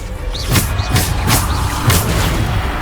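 Descendo spell impacts from Hogwarts Legacy played on PS5 land as a series of heavy booming thuds with swooshing tails, arriving in a quick rhythmic sequence, loud and close.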